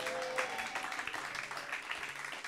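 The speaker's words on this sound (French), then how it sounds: "Est-ce qu'on peut acclamer le Seigneur pour sa vie?" A church congregation applauds and cheers in a sustained, dense wash of clapping, with a faint tonal note near the start.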